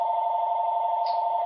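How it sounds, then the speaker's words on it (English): A phone ringing near a guitar amp setup, a steady electronic tone held throughout without a break, fairly clear and alone with no talk. "Phone's ringing."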